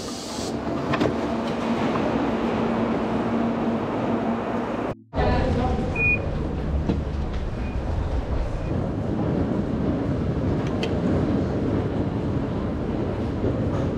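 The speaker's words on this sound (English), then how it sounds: "I'm gonna pick up the train, the metro." An Athens metro train rolls along with a steady, loud rumble and rhythmic clatter, a brief dropout midway, then continuing mechanical rattling and squeals, heard up close from inside or beside the car.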